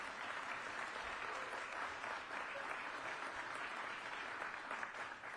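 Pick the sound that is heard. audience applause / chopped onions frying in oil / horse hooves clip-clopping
audience applause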